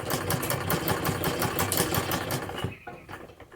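Sewing machine running steadily as it stitches a wave pattern along the center seam of a sleeve design, a close, continuous mechanical whir with rapid needle rhythm that stops abruptly near the end.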